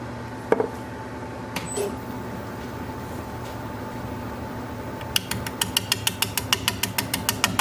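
A wood lathe spins a large alder bowl blank at 400 RPM, giving a steady low mechanical hum with a faint constant tone; a few isolated knocks appear early, then a rapid run of sharp regular ticks near the end.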